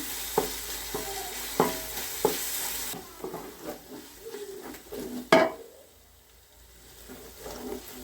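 Ginger, garlic and green chillies fry in a pan for biryani masala, with a soft sizzle and repeated stirring scrapes and clinks of a spoon against the pan, the sizzle fading after a few seconds.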